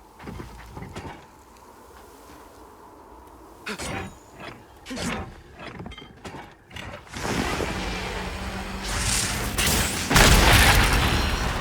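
Bombs go off in a Monster Hunter Wilds hunt: several sharp booming blasts land in the first half, then a sustained loud roar of crashing debris and rumble swells through the end.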